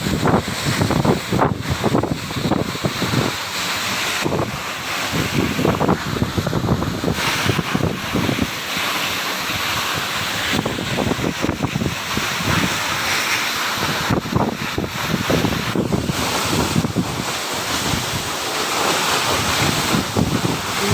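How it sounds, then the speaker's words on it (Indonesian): Curug Janji, a tall waterfall in North Sumatra's Toba Caldera area, roars as a dense, constant rush of heavy water, loud and close, with wind buffeting the microphone. "Ini salah satu terjun tertinggi di Sumatera Utara ya guys. Airnya sangat deras ya guys."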